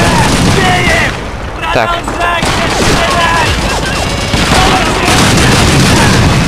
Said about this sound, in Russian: А, тут стреляют.